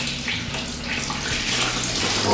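About 7.5 liters of grape concentrate flows into a sterilized primary fermenting bucket during home winemaking, a continuous, fairly loud gushing pour that lasts the whole moment with no talking.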